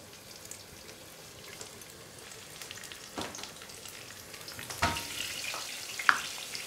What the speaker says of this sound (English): So as this is heating up, I'm just going to add my chili.